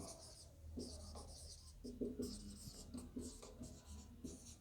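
A pen scratches across paper while an electrical resistance calculation is written out, with short bursts of scribbling strokes separated by brief pauses, close and fairly quiet, with no talking.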